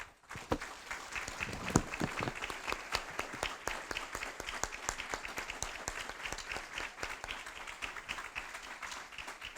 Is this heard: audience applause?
yes